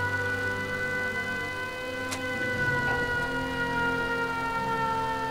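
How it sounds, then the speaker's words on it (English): Settlement attack siren on a workshop rooftop in Fallout 4, a sustained droning wail holding steady tones over several seconds with a single sharp click near the middle, fairly loud and unaccompanied by speech. "Here's where you can activate the siren in case there's an attack."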